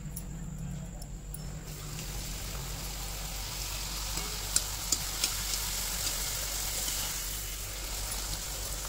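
Puris fry in hot oil with a soft, steady sizzle and bubbling, fairly quiet, with a few small clicks and taps from handling and faint speech in the background.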